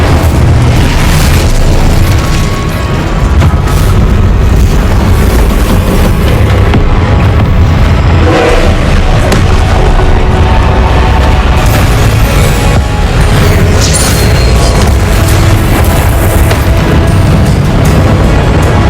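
Incendio fire spell blasts in Hogwarts Legacy, a loud, dense, continuous roar of booming fire and magical bursts that fills the whole stretch without pause.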